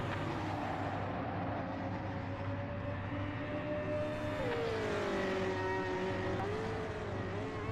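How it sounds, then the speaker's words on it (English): Race car exhaust in the Project Motor Racing sim, heard from a camera placed right behind the tailpipe: a continuous, loud engine drone whose pitch rises and falls as revs change, with no talking. "You put the camera right behind the exhaust, though, it sounds pretty gnarly."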